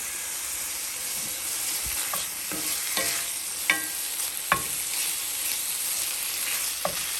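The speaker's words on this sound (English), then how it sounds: "Let's start off by getting this bacon fried." Bacon frying in a pan for breakfast muffins, a bright steady hiss of crackling fat, close and even, with occasional scrapes and taps of a utensil turning the strips.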